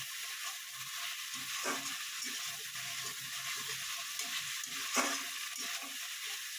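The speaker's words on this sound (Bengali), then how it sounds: "ট্যাংরা মাছ দিয়ে একটু কষিয়ে নেবেন।" Tangra fish sautés in a pan with a constant close sizzle and hiss, broken by soft scraping stirs and a couple of sharper spatula knocks.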